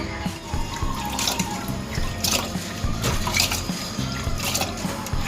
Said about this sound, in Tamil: ஜில்லு தண்ணியில் வாஷ் பண்ணிகிட்ருக்காரு